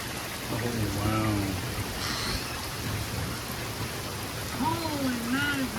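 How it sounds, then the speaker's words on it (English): Heavy rain pouring down during a passing thunderstorm, a dense steady hiss beneath brief voices and a short whistle, with a faint low rumble in the background. "it's raining hard"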